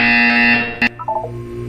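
Portal 2 buzzer, a loud harsh electronic tone that holds for about half a second and then fades, followed by short clicks and a few quieter descending beeps.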